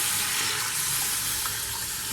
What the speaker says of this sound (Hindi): मैं 3 ग्लास के करीब पानी ऐड कर रही हूँ।